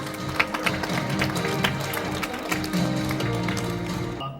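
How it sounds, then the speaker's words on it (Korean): Audience applause at an international symposium, a steady patter of many hands clapping in a hall with a low background hum, fairly even throughout and fading briefly at the very end. "박수로 모시겠습니다"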